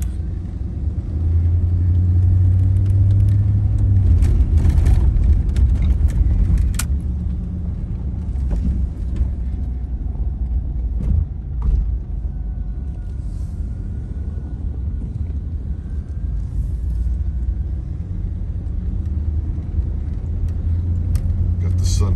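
A van drives along a lakefront road in Portage, Indiana, in winter, producing a steady low engine and tyre rumble from inside the cabin that is loudest early on and then settles.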